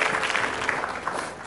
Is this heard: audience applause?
yes